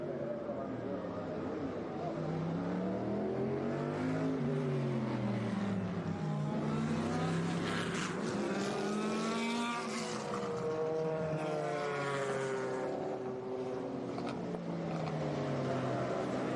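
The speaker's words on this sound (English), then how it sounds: "as you can hear and probably start to see, the roar of what is our next group, the Scott Pruett Legends of Endurance" Vintage endurance race cars of the Scott Pruett Legends of Endurance group roaring past at Laguna Seca, engines rising and falling in pitch as they pass, loud and continuous with a commentator's voice underneath.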